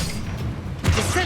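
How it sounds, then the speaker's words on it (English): An Expelliarmus spell is cast in Hogwarts Legacy on Xbox Series X: a sudden loud magical burst with a booming, crackling impact lands partway through, over a steady bed of game ambience. "Expelliarmus!"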